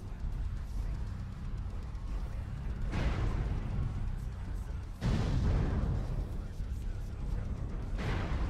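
Two heavy booms of ammunition exploding in MechWarrior, each a sudden rumbling blast that decays slowly, set against a constant low mechanical drone of battle ambience.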